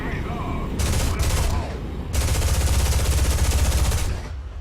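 Aircraft machine guns on an F-80 Shooting Star in War Thunder fire in loud, rapid bursts: a short burst, a brief pause, then a longer sustained stream that stops abruptly.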